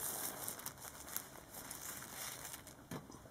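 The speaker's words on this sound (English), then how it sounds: "I will open this because it's got some paper frames in a plastic bag." Crinkling of a thin plastic bag holding paper frames as it is handled and opened, quiet scattered rustles and crackles up close.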